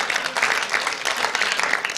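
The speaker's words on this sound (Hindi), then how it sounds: "जबरदस्त तालियां सर के।" Audience applause at a motivational goal-setting talk, a steady, dense clatter of many hands clapping at close range, loud and continuous with no voices over it.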